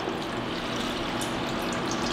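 Water is poured into a pot of cut, washed plantains, a steady broadband splashing and gushing that fills the space evenly and continuously with no talk over it.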